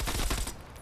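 Automatic gunfire in Call of Duty Cold War multiplayer, a loud, dense burst of rapid shots lasting about half a second before it cuts off into quieter game ambience.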